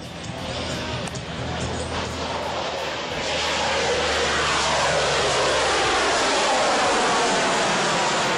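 Fat Albert, a heavy cargo aircraft, taking off with rocket boosters: a dense, loud broadband roar that holds steady and grows stronger partway through, with no pauses.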